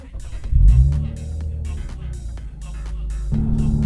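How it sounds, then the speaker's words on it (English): A 2023 Lexus IS350 F Sport's naturally aspirated V6 with an aftermarket exhaust cranks and fires up, a loud rumbling surge settling into a steady idle, close by. "So let's fire up this naturally aspirated V6."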